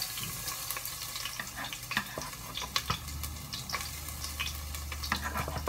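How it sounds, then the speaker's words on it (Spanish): Chopped garlic fries in hot oil for a Mexican-style potato soup, giving a steady crackling sizzle with scattered sharp pops, close and moderately loud, with no talking. "estamos partiendo el ajo y se lo vamos a echar al aceite"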